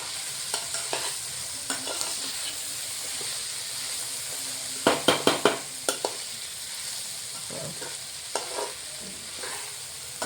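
Ginger and garlic sizzle in hot oil in a pan for fried rice, a constant frying hiss broken by a cluster of clattering spatula stirs midway and a few lighter scrapes later.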